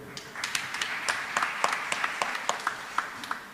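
A church congregation claps hands in uneven bursts, many sharp claps scattered across the room at a fairly close distance, rising and falling in loose rhythm without speech.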